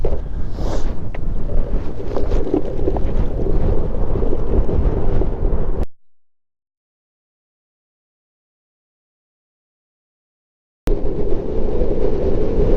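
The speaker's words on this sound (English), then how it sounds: "the headwind is so strong" Strong headwind buffeting the microphone while riding an electric skateboard high on the moors, a loud continuous roar that cuts out for several seconds and then returns just as forcefully.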